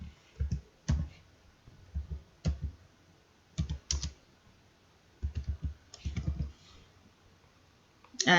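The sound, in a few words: typing a search on a computer keyboard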